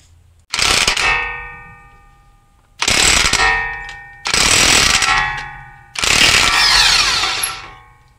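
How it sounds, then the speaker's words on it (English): An electric impact gun works the axle nut on a 2002 Honda Odyssey in four loud, close bursts of rapid hammering, each about one to two seconds long, separated by short pauses. "just use an electric impact gun like what I'm going to use"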